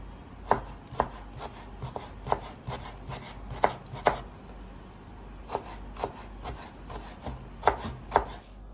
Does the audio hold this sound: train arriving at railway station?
no